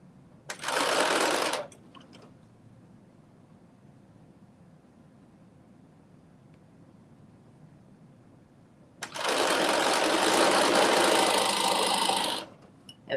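A home sewing machine runs a regular straight stitch at 2.5 stitch width for a 5/8-inch garment seam: a brief one-second burst, a long quiet pause, then a longer, steady three-second run of fast needle whirring.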